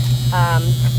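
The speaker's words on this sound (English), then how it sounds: "So when you get in, it'll beep until you put your seatbelt on." An interior seatbelt warning tone in a 1972 Ford Mach 1 beeps once, a short buzzy pulse over the low hum of the idling engine.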